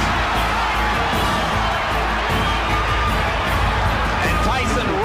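Loud boxing arena crowd roaring and cheering right after Mike Tyson knocks down Tillman, a dense, continuous wall of shouting voices with scattered whoops, steady throughout.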